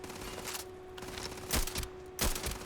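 Anti-material rifle fire in the video game Starfield: two sharp, loud cracks about a second apart, each with a short decaying tail, over a low steady background hum.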